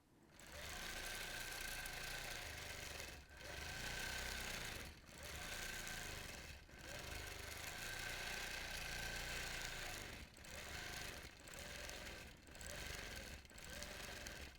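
A quilting machine stitches a Lone Star quilt with a steady, fast mechanical hum and needle rattle, running in bursts of a second or two separated by short pauses.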